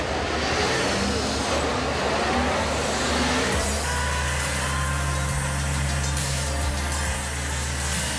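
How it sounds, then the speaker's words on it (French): Thirty-one Lamera Cup race cars set off at Dijon, a dense, loud wall of engines roaring together, shifting into a heavier rumble partway through as the pack passes close. "Les 31 voitures s'élancent pour 3h30"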